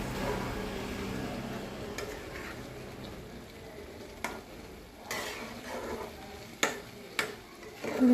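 Egg tarka with a pinch of sugar is stirred in a pan, a soft, low sizzle broken by a few sharp spatula scrapes and clinks toward the end, with no talking.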